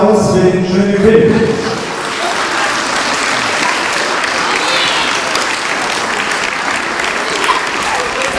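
Applause from an audience at a student competition prize ceremony, a dense steady wash of many hands clapping that carries on throughout, with a voice briefly audible over the start.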